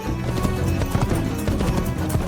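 Horse hooves gallop in Assassin's Creed, a rapid, rhythmic clip-clop of repeated strikes that stays close and fairly loud throughout.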